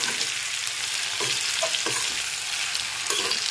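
Chili chicken seasoned with black pepper fries in a pan, giving a dense steady sizzle with a handful of soft spoon scrapes as it is stirred, no voices.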